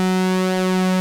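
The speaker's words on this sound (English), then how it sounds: "So let's send our pulse width modulation." Sequential Prophet 10 Special Edition synthesizer holding a single sustained note with pulse width modulation, a bright buzzy tone rich in harmonics, loud and close for about a second.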